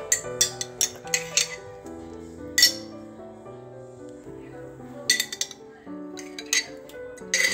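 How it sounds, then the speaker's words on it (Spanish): A spoon clinks and scrapes against a mayonnaise jar while scooping out the last of it, with a series of sharp, close taps and scrapes in irregular bursts over a low musical background. "Ya estamos repelando el bote"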